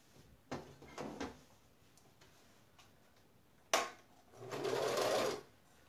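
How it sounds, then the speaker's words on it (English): A sewing machine stitches binding onto quilted placemats in a steady, close run of about a second near the end, after scattered soft clicks and handling thumps. "When I start sewing on the corners too, I don't start from the very top."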